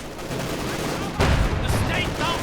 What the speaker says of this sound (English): Kino 2's advancing straight into the Panzer IV and it's heavy machine gun fire.